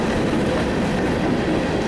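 NS freight train hauled by a 2012 GE ES44AC and a 1986 EMD SD60 rolls past with a steady, loud, close rumble and rail clatter, continuous with no voices.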